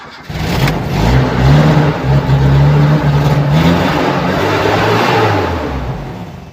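A Toyota Kijang with a faulty ECM module that is hard to start cranks, catches and revs, a close mid-pitched engine rising and falling steadily for several seconds.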